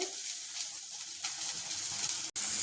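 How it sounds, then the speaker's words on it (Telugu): Sliced onions fry in oil with mustard and cumin seeds, giving off a loud, continuous close-up sizzle with a short break near the end and no speech. "ఉల్లిపాయలు వేసుకొని ఫ్రై చేసుకోవాలి"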